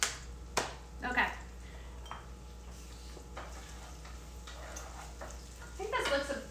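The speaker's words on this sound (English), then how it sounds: "I just wanted to toast the risotto a little bit" Risotto rice toasting in a pan: faint intermittent stirring scrapes and a soft sizzle, with a few sharper knocks of a utensil, quiet and close with long gaps.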